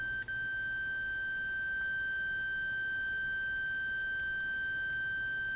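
Continuity tester on an Airline portable radio model 84GCB-1062A, sounding a steady unbroken electronic tone through the slide switch in the off position, held without pause under a faint background hiss.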